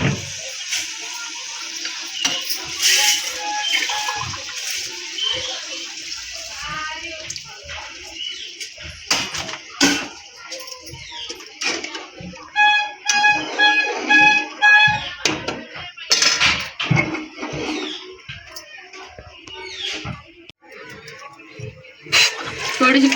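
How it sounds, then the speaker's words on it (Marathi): Water pours into a pan of Bombay duck (bombil) fish curry, an uneven splashing and trickling up close with clunks and scrapes of the pan between pours. "मी थोडंसं अजून पाणी टाकते."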